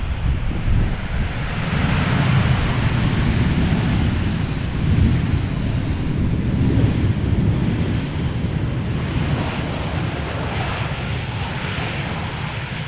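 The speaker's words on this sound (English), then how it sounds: "Airbus A320 from Vueling, arriving from Alicante, touching down after 2 hours and 14 minutes" A 16-year-old Vueling Airbus A320, first flown in 2007, touches down at Amsterdam Schiphol on arrival from Alicante, a steady broad engine roar and rushing wind noise held loud for the whole stretch.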